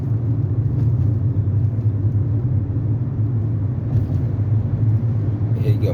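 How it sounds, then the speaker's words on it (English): Highway traffic on I-93 south near the Mass Pike, a steady, fairly loud low road rumble that continues unbroken throughout, with faint voice-like sounds mixed in. "Here you got more traffic up here"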